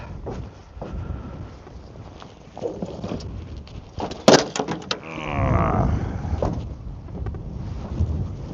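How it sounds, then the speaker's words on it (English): Wind gusts buffet a fishing boat out trolling, a rough rushing roar swelling in the middle with scattered knocks and rattles, fairly close and moderately loud. "Ooh, that wind"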